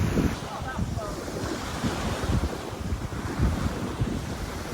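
Waves wash onto a private beach near Pisa in Tuscany, a continuous broad surf rush blended with wind buffeting the microphone.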